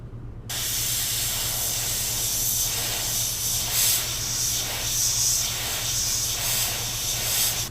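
Aerosol spray paint hissing steadily onto a 3D skull model, a continuous close hiss that swells and eases in repeated bursts over a low constant hum.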